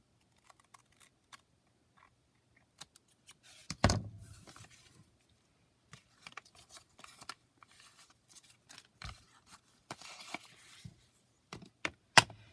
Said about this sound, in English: And then I'm just going to trim it with scissors.